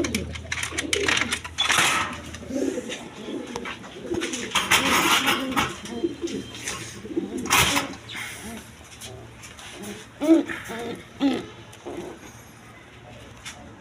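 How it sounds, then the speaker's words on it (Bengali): Big sky-blue Rajgolla pigeons coo in a low, repeated rhythm at close range. Rustling and shuffling run beneath the calls, and someone talks over part of it. "এক পেয়ার আকাশি কালার আপনার রাজগোল্লা কবুতর আছে, একদম বিগ সাইজের"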